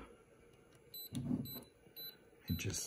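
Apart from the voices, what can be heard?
camera self-timer beeping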